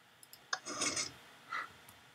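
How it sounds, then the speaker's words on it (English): A few sharp clicks followed by grinding, rasping mechanical sounds of Minecraft levers being pulled, brief and fairly close with no talking. "I'm just clicking levers."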